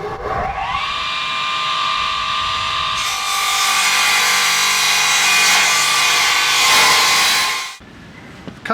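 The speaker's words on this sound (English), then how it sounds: "Cut a section of the batten down." A section of wooden batten is cut with a power saw during a Series Land Rover restoration, a loud steady whining cut that runs for about seven seconds with rising strain before it stops abruptly.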